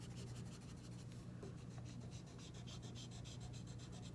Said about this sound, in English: it's real easy to erase my guideline